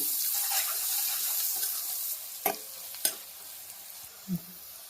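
Brinjal and tomato curry with turmeric and salt frying in a pan, a soft continuous sizzle broken by a few sharp spatula taps and scrapes, with no voices.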